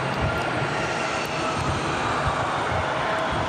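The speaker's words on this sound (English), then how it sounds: "We got that E175 in" Embraer E175 jet arriving at Raleigh-Durham airport, a brief steady engine roar, loud and close, with no talk.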